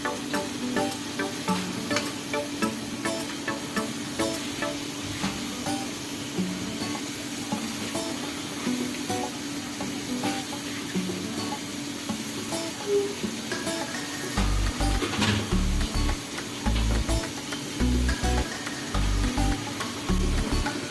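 Karela (bitter gourd) frying in a pan for a Bengali bhuna: steady close sizzle with soft stirring scrapes, and a louder burst of frying in the last few seconds, with no talk.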